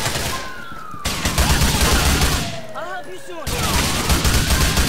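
M4 rifle fire rattles through a GTA IV police firefight, dense overlapping bursts of shots over a noisy game scene with a rising and falling siren-like tone mixed in.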